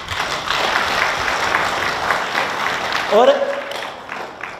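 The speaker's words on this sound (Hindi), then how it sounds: "इसका मतलब ये नहीं है तालियां बजा रहे हो" An audience at a meditation camp talk claps in a sustained, moderately loud burst, and a single spoken word cuts in as the clapping fades.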